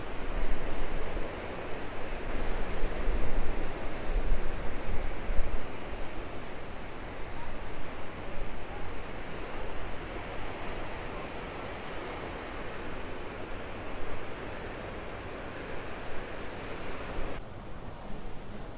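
Ocean waves surge and wash continuously in a broad roar at El Médano, Tenerife, where surfers ride them, with gusts of wind buffeting the microphone.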